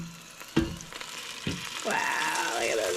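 Bratwursts cooking in an air fryer, sizzling and frying with a couple of sharp clunks and a rising whirring tone near the end, moderately loud and close.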